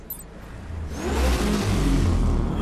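The Batmobile's engine in Batman: Arkham Knight whirs up and revs louder, a rising mechanical roar close by with no talking.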